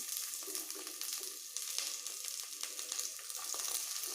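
Onions hitting hot oil in a pan after pepper has crackled, a continuous bright sizzle with faint clinks throughout, close and steady with no voices.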